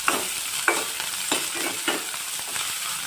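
Small shallots sautéing in a pan with a steady crackling sizzle, broken by several soft scraping strokes of a stirring spoon at irregular intervals, close and alone without talk.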